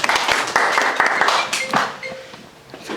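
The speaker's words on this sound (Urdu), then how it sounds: "آپ کی تالیوں میں" An audience at a TV channel's second anniversary celebration applauds, a dense burst of clapping that is loud at first and then thins and fades over a few seconds.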